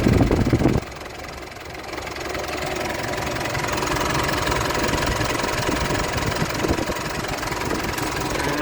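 A 2015 Mitsubishi Triton Double Cab with a 2.4 litre engine and a newly fitted exhaust idles steadily and close by. A low, even rumble with a slight knock runs throughout, after a brief louder moment at the start.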